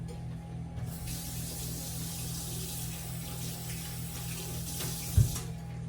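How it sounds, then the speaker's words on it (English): A kitchen tap runs in a steady, hissing stream while hands are washed beneath it, with a brief splash near the end and no voices. "So I'll wash my hands real quick."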